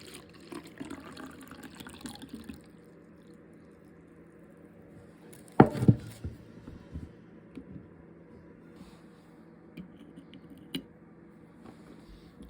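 Warm water runs steadily from a tap into a sink for dissolving bath bombs, a soft continuous wash with a brief clatter of handling midway and faint knocks later.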